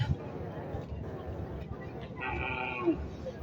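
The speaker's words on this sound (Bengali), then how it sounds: "এখানে মোট আঠারোটি গরু রয়েছে" A cow lows once at a cattle sale in Kanaighat amid a steady crowd murmur and people talking nearby, the call rising clearly over the background chatter.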